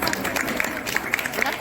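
A crowd at a Teachers' Day function honouring a yoga teacher claps in a brief, steady patter, with voices mixed into the noise.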